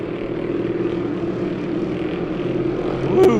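Race car engines coming out of turn four late in a heat race, a continuous distant droning roar that swells slightly toward the end.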